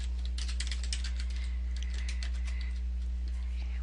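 Rapid keystrokes tapped out on a computer keyboard while a password is entered, light clicking clustered in short bursts over a steady low hum.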